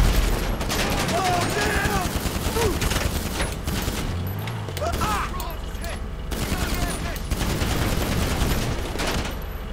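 Sustained gunfire in GTA 5 Online during a Drug Wars mission, with dense overlapping bursts and automatic weapon fire running continuously at close range, punctuated by a deeper boom, with voices mixed in.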